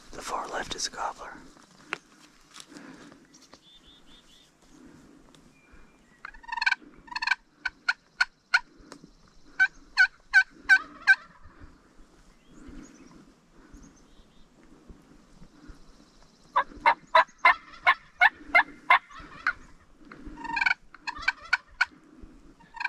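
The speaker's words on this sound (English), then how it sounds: "they're gobblers" Merriam wild turkey gobblers gobble repeatedly from a distance, rapid rattling bursts coming in clusters between quiet stretches, with soft whispered voices nearby.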